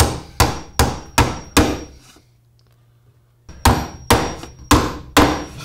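Hammer blows drive nails into a wooden jig frame being glued and assembled for an 8th grade stool, a run of four sharp, loud strikes, a brief quiet pause with a low hum, then another steady burst of hammering.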